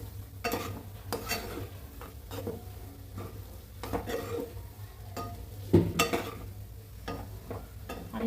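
Roasted semolina for sheera is stirred in a pan, with a soft scraping rhythm and intermittent clinks of the spoon against metal over a low background sizzle.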